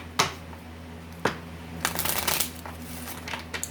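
A card drawn from a Lenormand deck during a tarot reading, heard as a few short, quiet papery snaps and rustles, close by, with a brief shuffling slide in the middle.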